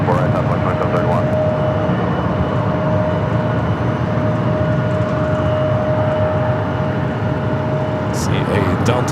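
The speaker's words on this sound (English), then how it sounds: "See a Delta A350 sneaking out." A Delta Airbus A350 jet taxiing at Los Angeles International Airport produces a loud, continuous engine roar with a steady whine, close and unbroken throughout.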